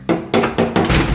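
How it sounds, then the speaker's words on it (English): An original door knocker on a historic childhood home in Charleston, WV, struck four times in quick succession, each a sharp, close, resonant metal-on-wood rap in an even rhythm. "Original door knocker"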